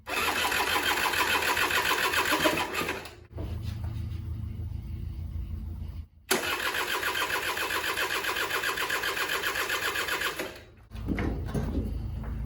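A 1984 Honda Aero 125 scooter engine cranks with loud, buzzing starter bursts, pausing between attempts, repeated three times up close.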